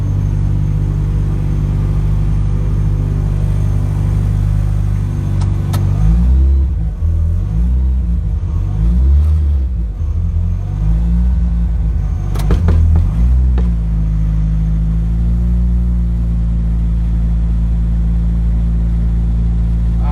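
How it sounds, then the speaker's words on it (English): A Datsun 1200 wagon with an SR20DET engine at a drag race, its loud engine rumbling steadily with rising and falling revving passes and sharp transient pops near the middle, continuous and close throughout. "Wagon, racing Simon, SR versus FJ."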